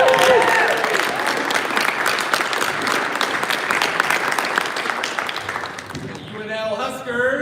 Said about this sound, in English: please rise and feel free to cheer when recognized